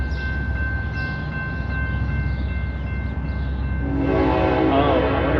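A passing train sounds a long, steady horn over a rumbling background, with the rolling noise of the cars growing louder toward the end, heard from a distance.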